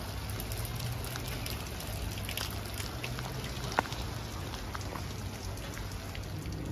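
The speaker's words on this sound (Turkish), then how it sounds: "Deminden şakır şakır yağmur yağıyordu." Steady rain falls heavily on surfaces outside a hillside hotel lobby café on the mountain road from Tbilisi to Kazbegi, a dense continuous patter that holds evenly throughout with no voices.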